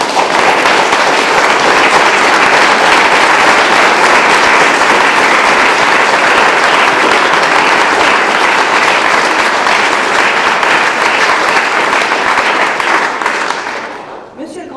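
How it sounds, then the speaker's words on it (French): Loud, sustained applause from a large audience at a French Legion of Honour Commander award ceremony, a dense unbroken wash of clapping that holds steady for about fourteen seconds before fading at the end. "Je vous invite à les applaudir"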